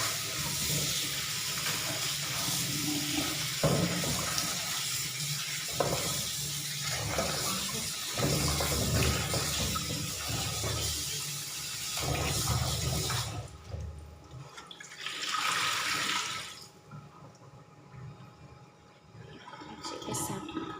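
Cucumbers being washed in a basin of water, with steady splashing and running water close by for most of the time, then quieter trickles and drips near the end.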